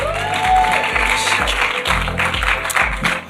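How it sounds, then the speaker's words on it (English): An audience at a live event claps in a dense, steady round of applause, with a pulsing low beat, likely music, underneath. "Let's clap for them once more."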